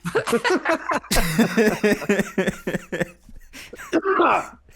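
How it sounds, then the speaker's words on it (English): A man coughs and clears his throat between bits of talk and laughter, a few rough, close bursts. "when I laugh, it makes me cough"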